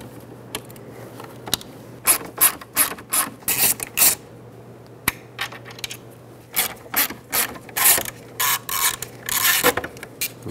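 A ratchet works T10 screws out of a Chevrolet Silverado 2500HD side mirror, giving bursts of quick, close clicking in short rhythmic runs with brief pauses between, alone with no talking.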